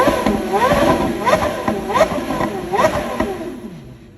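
A car engine fitted with a straight header exhaust blips up toward 8000 rpm about three times in quick succession. Each rev rises sharply and then falls back, loud and close, with voices talking underneath.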